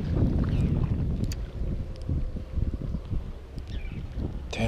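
Wind blowing across a lake gusts past an open fishing boat, a steady rough rumble that buffets the microphone throughout, with faint rustles and small knocks on board and no talk.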